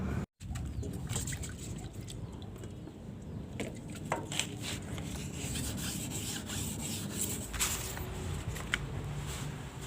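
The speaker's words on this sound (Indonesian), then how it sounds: "saya haluskan untuk temboknya yang sudah dicat itu pakai amplas yang lebih halus lagi, amplas 2000" Steady, close-up rubbing and rasping of 2000-grit sandpaper worked back and forth over a painted carbon birdcage, continuous for the whole stretch with a few brighter scrapes and faint background chirps.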